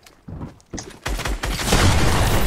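Gunfire rings out in a shooting video game, starting as a few separate shots and building quickly into dense, loud, sustained firing.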